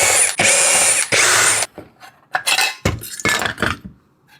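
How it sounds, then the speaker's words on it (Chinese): Screws being removed from the casing of a lead-acid electric vehicle charger, with loud close bursts of a ratcheting power driver whirring in several separate runs, plus small metallic rattles between them. "微克螺丝全部拆掉。"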